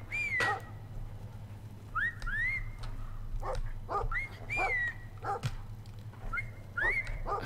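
Dog barks and yelps from the game Brothers: A Tale of Two Sons, several short rising calls spaced through the clip over a steady low game hum, fairly clear with no talk.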